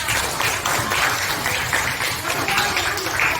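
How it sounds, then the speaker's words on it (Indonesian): An audience applauds at a community meeting about planting water spinach, a dense, steady clapping that lasts throughout, with voices mixed in underneath. "kasih tepuk tangan untuk kita semua"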